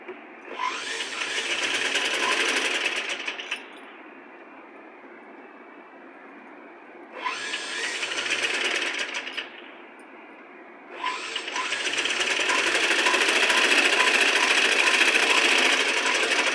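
A sewing machine stitches invisible piping in three loud, close bursts of rapid, even mechanical whirring, each lasting a few seconds and split by quiet pauses, the last run being the longest, with no talking.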